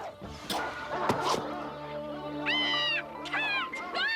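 Several drawn-out, high meows from an animated cartoon cat, close by, with a few clicks and bumps at the start.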